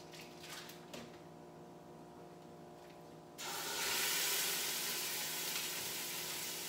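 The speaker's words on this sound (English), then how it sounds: "what you wanna do is you wanna brown the pork tenderloin first" Pork tenderloin searing in oil in an Instant Pot: a quiet low sizzle with a few small clicks, then the meat hits and a much louder, steady hissing sear takes over, close by.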